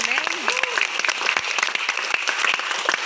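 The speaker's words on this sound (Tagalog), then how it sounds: "Mas malakas na palakpak kay Lord." A church congregation at an anniversary service breaks into loud, close applause, a dense burst of clapping over about three seconds with a voice speaking over it.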